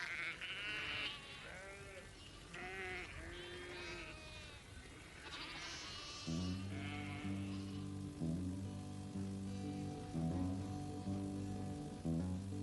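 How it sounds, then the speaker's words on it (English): Several sheep bleat repeatedly up close during the first half, then give way to a steady, droning musical tone. "we've got one sheep that's very, very friendly"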